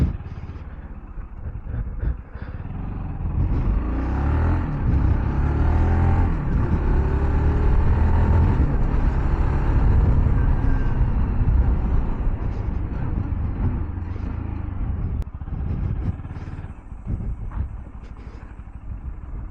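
A Bajaj Pulsar AS200 motorcycle accelerates hard through the gears on a road, its engine note loud and close, rising and shifting across a long sustained run before easing off near the end.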